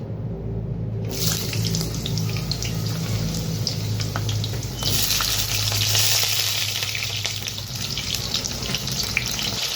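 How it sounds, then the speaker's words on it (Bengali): Potatoes and pointed gourd fry in hot refined oil with a loud, continuous sizzle that swells sharply after the first second, overlaid by stirring and scraping. "তো আলু পটলগুলো প্রথমে আমি ভেজে নেব"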